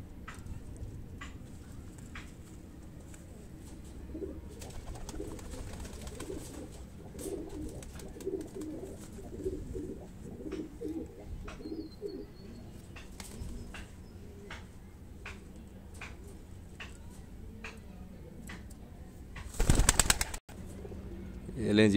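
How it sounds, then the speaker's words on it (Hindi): High-flying breed pigeons cooing softly at close range in a loft, with repeated low coos and faint clicks, a sharp loud clatter near the end. "बेहतरीन परवाजी कबूतर है जी"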